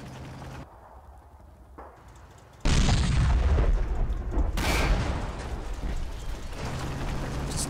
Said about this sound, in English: T-34s back here somewhere taking shots of that Panzer IV.